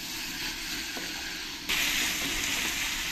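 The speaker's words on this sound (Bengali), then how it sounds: "এবার এই সেদ্ধ করা এঁচোড়গুলো এই মশলার মতো দিয়ে ভালো করে কিছুক্ষণ আমি কষিয়ে নেব" Boiled young jackfruit sautéing with spices in a pan, a steady broadband sizzle and fry that jumps louder partway through as stirring stirs it up, continuous and close with no talk.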